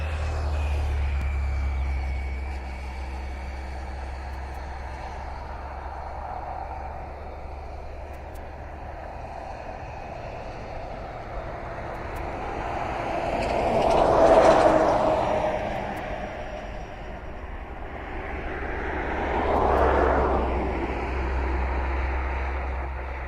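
A jet airliner lands at East Midlands Airport at night, passing directly overhead with a loud, steady engine roar that swells to a peak and then surges again as it rolls out, with a low rumble running underneath throughout.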